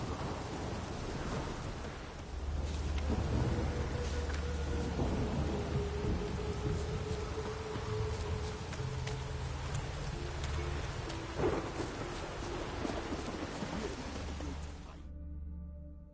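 Steady rain pours throughout a stormy scene in The Witcher 3, with deep rolling thunder rumbling low beneath it and a few sharper cracks, the downpour continuing at a constant level before cutting off abruptly near the end.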